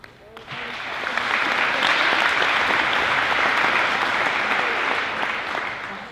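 Sustained audience applause at a St Marys High School awards ceremony as student officers are named, dense steady clapping that swells in within the first second and holds evenly for several seconds.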